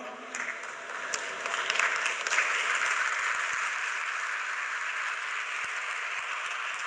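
Sustained applause from a large audience at the Semicon India 2025 event at Yashobhoomi in Delhi, a steady wash of clapping that stays moderately loud throughout the whole stretch with no voices over it.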